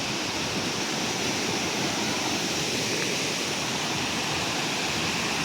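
A waterfall in the hills of Sikkim, near a river and bridges, gives off a steady, full roar of rushing water that holds constant and close with no breaks.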